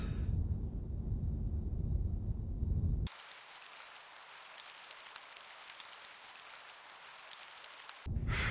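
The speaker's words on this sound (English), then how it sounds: "Why does it always rain in England?" Rain in England in the video game Her Majesty Spiffing, a steady soft patter of drops forming a faint wash of noise, framed by low rumbling background sound before and after.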